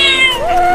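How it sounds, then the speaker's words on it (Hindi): A cat meows once in a drawn-out, wavering cry, close and fairly loud, with no voices over it. "वहाँ बिल्ली रोड पर है।"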